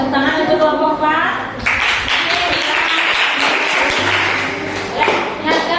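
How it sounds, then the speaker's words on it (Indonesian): A classroom of students applauds a group, dense clapping that swells after a short opening and carries on steadily, with a teacher talking over the start and again briefly near the end. "Berikan tepuk tangan untuk kelompok Pak."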